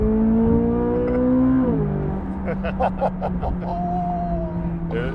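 A Corvette C8 Z06 accelerates, its engine drone climbing steadily in pitch and then holding a sustained tone, with a short burst of rattly clatter partway through.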